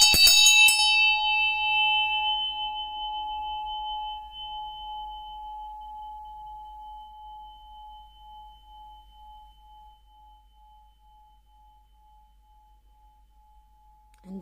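A single bell is struck once, giving a bright metallic ring with a sustained tone that slowly fades over many seconds in a quiet room, with a faint low hum beneath.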